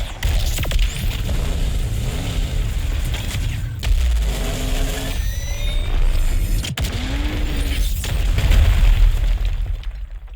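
Jet Engine's awakening move in the video game Heroes Battlegrounds unleashes a loud barrage of booms, blasts and sweeping whooshes, with sharp impacts punctuating a continuous roaring rumble.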